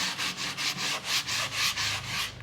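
Rhythmic hand sanding of hardened body filler on a car dent repair, about ten even back-and-forth rasping strokes, close and steady with no talking.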